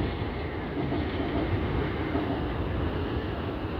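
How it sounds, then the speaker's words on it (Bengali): An electric train carrying Hajj pilgrims from Mecca to Arafat runs nearby, giving a steady, loud rolling rumble with a faint clatter and no pauses. "এই ট্রেনগুলো দিয়ে মক্কার থেকে আরাফার মাঠে হাজিগুলো আসতেছে"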